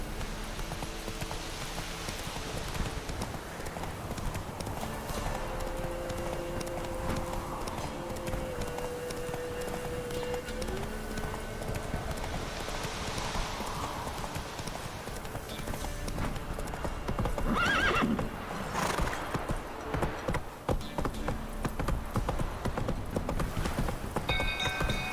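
The horse Roach from The Witcher 3 gallops in steady, rhythmic hoofbeats throughout, with the pace surging louder toward the end and a brief whinny partway through, set against game ambience.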